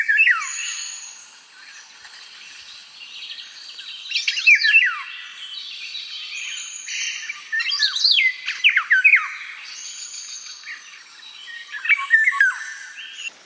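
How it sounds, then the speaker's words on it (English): Fluting, whistled oriole calls with rising and falling phrases repeat through a steady chorus of chirping, clear and fairly close. "oriole bird, which is a bird that sounds absolutely amazing"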